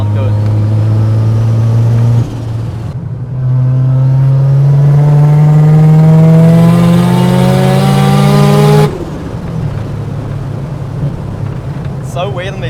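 A Mazda RX-7 rotary engine revs loud and close, its raw buzzing note climbing through long sustained pulls with brief drops between them, while a voice talks over parts of it.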